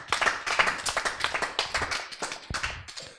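An audience claps after a child's presentation at a children's and youth Mawlid celebration, a few pairs of hands patting in brisk, uneven rhythm, close and fairly loud with no talking.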